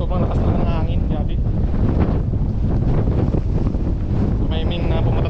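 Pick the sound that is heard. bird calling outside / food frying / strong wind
strong wind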